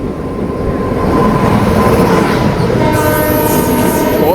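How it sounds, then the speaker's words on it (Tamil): Trivandrum North Express passenger train with LHB coaches rolling past nearby, a steady loud rumble of wheels on rail, with a drawn-out horn sounding in the second half. "ட்ரிவாண்ட்ரம் நார்த் எக்ஸ்பிரஸ் வந்துட்டு போயிட்டுருக்கு"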